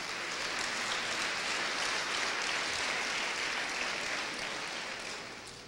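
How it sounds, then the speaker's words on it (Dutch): A congregation applauds at a gathering, dense, even clapping that holds steady throughout and tapers slightly at the close. "geef haar een applaus"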